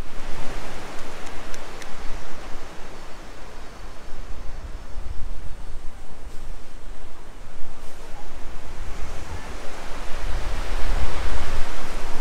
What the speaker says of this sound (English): a good breeze, gentle waves coming in from the ocean